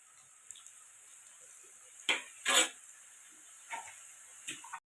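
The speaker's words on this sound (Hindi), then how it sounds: "ये आपके नमक पारे भी फ्राई होने शुरू हो गए" Namak pare frying in hot oil after a batch of potato samosas, a steady soft hiss with a few louder crackling bursts near the middle and end, with no talking.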